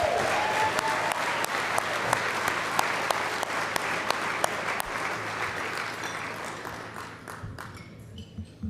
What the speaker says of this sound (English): Please join me in giving all our sponsors one more thunderous round of applause.